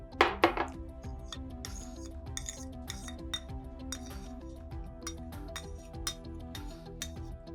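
Homemade face cream being scooped from a pot into a bowl, with a run of light metallic clinks and scrapes of a spoon against the vessels, close and fairly quiet, sharper taps near the start.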